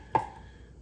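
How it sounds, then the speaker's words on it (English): A single sharp knife chop through an onion on a cutting board, one close, crisp impact followed by quiet room tone. "I'm going to chop it up"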